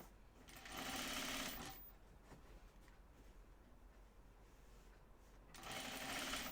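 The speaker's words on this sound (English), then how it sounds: "I'm going to stitch on the side. Just going to edge stitch." A sewing machine edge stitching a pajama bottoms seam whirs in two bursts, one near the start and one near the end, with a quiet pause between them.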